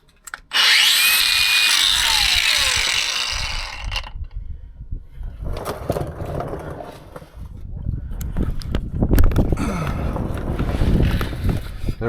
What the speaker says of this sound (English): now I just gotta cut the ends off, and I have my angle grinder here